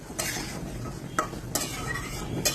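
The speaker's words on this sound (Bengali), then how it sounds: "পটলটা মশলার সাথে কিছুক্ষণ কষে নিতে হবে" Gourd pieces being stirred with spices in a pan, a spoon scraping and clinking against the metal in several distinct strokes over a soft, steady sizzle, close and moderately quiet with no talking.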